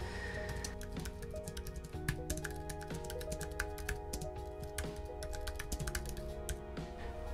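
Rapid, steady typing on an Apple Space Gray Magic Keyboard with numeric keypad, a continuous patter of close, crisp key clicks with no voice over it.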